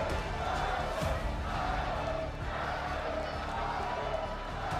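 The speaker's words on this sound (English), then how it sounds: "the crowd are still cheering loud" An esports arena crowd at a world finals roars in a sustained, swelling cheer, with an excited caster talking over the noise.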